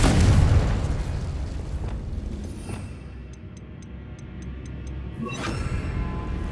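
A Confringo spell explosion in Hogwarts Legacy, a loud booming blast that decays into a rumbling roar, followed by faint ticking clicks and a second swelling burst.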